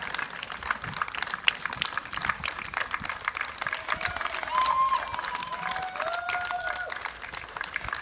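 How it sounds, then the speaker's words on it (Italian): Crowd applauding two British duet athletes at the World Trisome Games in Italy, a steady crackle of many hands clapping from a sizeable audience, with some faint whistles and cheers riding on top. "Vivian Lovis and Molly Kahn, a big applause."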